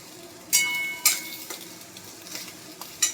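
Cumin and turmeric are being stirred in a hot pan: a spatula scrapes and knocks against the metal in several distinct strokes over a low background sizzle.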